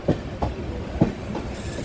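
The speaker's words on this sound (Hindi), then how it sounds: "हमारी ट्रेन चाकन के 1 नंबर प्लेटफॉर्म पे पहुँची है" A passenger train rolls into platform 1 at Chakand railway station on the Gaya–Patna route, with rhythmic clickety-clack of wheels over rail joints in regular thumps and a low rolling rumble, close and fairly loud.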